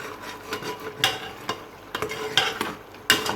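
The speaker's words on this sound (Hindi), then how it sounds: "अब हम इसकी भुनाई करेंगे।" Goat meat sizzling in a pressure cooker pot as a spoon stirs and scrapes, with sharp clanks of metal against metal every second or so.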